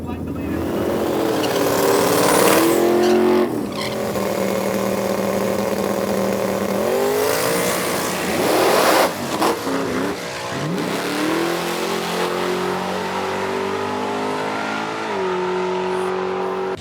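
A twin-turbo Maverick drag race car roars loudly and continuously down a quarter-mile track, revving up through gear changes as it accelerates hard, with a voice talking over it.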